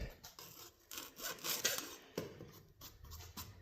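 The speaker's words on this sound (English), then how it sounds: "Not too shabby for a hand tool cut." A hand saw cuts through an RV grey water drain pipe in a run of short, uneven rasping strokes, close and moderately loud with brief pauses between pulls.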